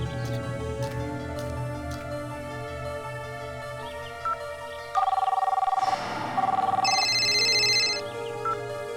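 A cartoon telephone ringing: after a soft melodic background, two loud bursts of an electronic ring play in quick succession, followed by a brighter, higher trill, alone without voices.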